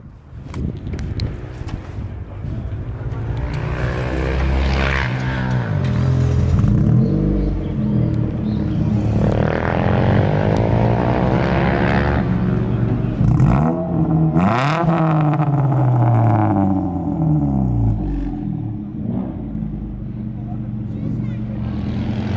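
A naturally aspirated Mitsubishi Lancer race car, factory-prepared for racing, roars and revs repeatedly, its engine note rising and falling loudly and close by for the full stretch, with some talk mixed in.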